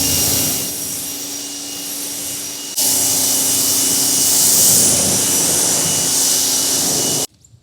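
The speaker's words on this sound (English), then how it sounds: "So we're just gonna do a full rinse." A Cadillac SUV gets rinsed with a high-pressure water spray: a loud, steady hiss that gets stronger about a third of the way in, then cuts off abruptly near the end.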